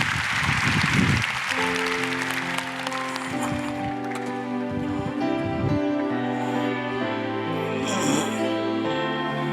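Applause from a church congregation during a Korean Sunday worship service, broad and steady, giving way to sustained organ or keyboard chords that carry on beneath and after the clapping.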